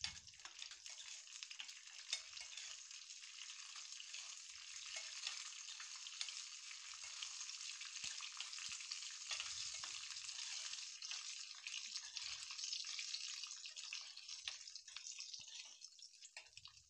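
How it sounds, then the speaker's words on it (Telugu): Cashews frying in ghee in a pan, a steady bright hiss and crackle of sizzling fat that continues evenly throughout with no talking. "ఒక 2 స్పూన్లు నెయ్యి వేసుకొని దాంట్లో జీడిపప్పు వేసుకొని వేపుకోవాలి"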